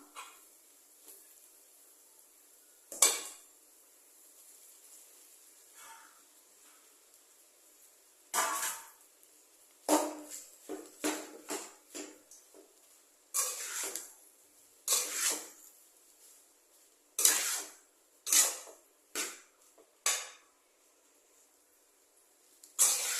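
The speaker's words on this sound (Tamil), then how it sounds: "நல்லா அனல் அதிகமாக வச்சு நல்லா கிண்டணும்" Egg rice being stirred and tossed in a pan over a high flame, with scattered bursts of spoon scraping and sizzling clatter at irregular intervals between quiet stretches.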